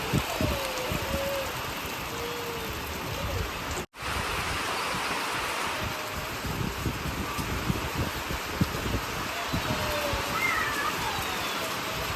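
Heavy rain pours down steadily, a dense, continuous hiss of drops close by that barely changes from start to finish.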